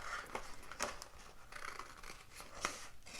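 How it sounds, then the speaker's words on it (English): Scissors snip through an infusible ink design sheet, trimming away the large excess sections in a run of sharp, close cuts spaced irregularly across a quiet indoor setting. "I'm going to start by taking the scissors and cutting the big sections out of the design"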